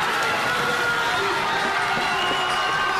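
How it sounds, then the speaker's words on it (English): Stadium crowd cheering loudly and steadily at the finish of a women's 3000m steeplechase final in Eskilstuna, a dense sustained roar with a commentator's voice over it. "The crowd getting pretty excited about this finish from the Swedish athlete."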